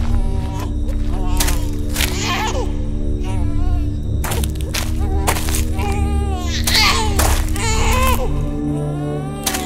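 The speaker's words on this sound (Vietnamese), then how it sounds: "Sao còn nghe tiếng em bé khóc luôn đây nè." A baby crying in the horror game Blood Field, its wailing cries rising and falling over a steady droning ambient hum, broken by several sharp loud bursts, with someone talking intermittently.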